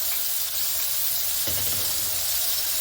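Breaded cutlets fry in ghee or oil in a pan with a steady, close, loud sizzle and hiss. A soft thud comes midway, and there is no talking.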